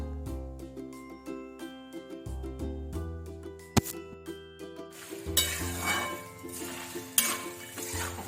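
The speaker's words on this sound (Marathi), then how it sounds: "थोडी हळद अजून थोडी घालून घ्यायची व्यवस्थित मिक्स करायचे" Poha chivda with turmeric being stirred in a pan, the spoon scraping and clinking steadily against the metal in repeated sweeps under a light sizzle, with a sharp clink near the middle.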